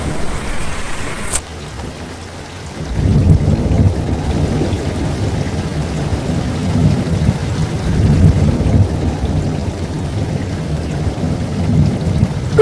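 Cartoon storm soundtrack: a sharp rumble of thunder breaks in after a brief high tone, then steady heavy rain pours on with low rolling thunder underneath, loud and continuous with no talking.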